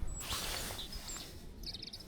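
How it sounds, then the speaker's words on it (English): Two European robins in Cornwall give thin, high calls, a few short faint notes close together against quiet outdoor ambience. "There's 2 robins."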